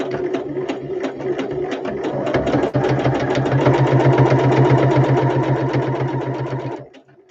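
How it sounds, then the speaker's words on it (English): A sewing machine stitches down fabric in a steady, close, rapid mechanical whir. The whir gathers speed, runs evenly for several seconds and then winds down to a stop. "So I'm just going to sew down."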